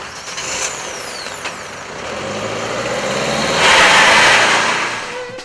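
Engine of a borrowed car building up as it revs before a street race in Ataköy, Istanbul, a steady rumble swelling louder midway then easing, with a hiss like an air brake near the start and no talk.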